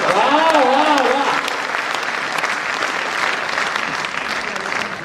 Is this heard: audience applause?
yes